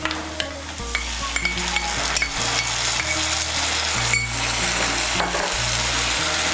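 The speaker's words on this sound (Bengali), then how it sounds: "টমেটো বাটাটাকে মিশিয়ে নেব তেলের সঙ্গে। মিশিয়ে নিয়ে একটু ভেজে নেব" Ground tomato paste frying in oil with browned chopped onions makes a steady sizzle, broken by quick clinks and scrapes of stirring, while a low tonal hum runs underneath.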